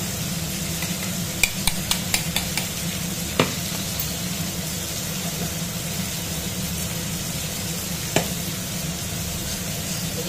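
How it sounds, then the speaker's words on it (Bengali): Crab legs fry in oil in a pan with a steady, continuous sizzle, while a utensil stirs and scrapes them, giving a few sharp clicks and knocks over the hiss. "ডাঁড়াগুলো ভালো করে ভেজে নিই, তেলেতে বেটে ফেলেছি।"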